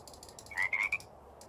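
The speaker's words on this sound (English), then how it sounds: "Is that the Amazon milk frog?" An Amazon milk frog in the Minecraft ZAWA zoo mod (Java 1.16.5) gives three short, bright croaking calls in quick succession, loud and close against a quiet background, with no talking.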